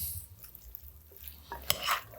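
Pasta salad being mixed in a bowl, with soft scraping and stirring sounds and a sharp clink of utensil against the bowl partway through, close and fairly quiet.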